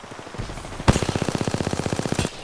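Apex Legends gunfire erupts as a single loud shot followed by a fast, even stream of automatic rounds that stops abruptly, close and dominant.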